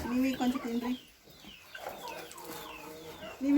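Country chickens at a village house cluck and call in short bursts, close by and fairly loud, with speech mixed in between.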